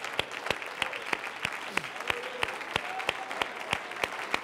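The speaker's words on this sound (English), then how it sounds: "stand to your feet and clap your hands right now and give God praise" A church congregation claps in a steady, rhythmic beat, sharp evenly spaced hand claps over a background of scattered applause and crowd murmur, with a voice rising briefly in the middle.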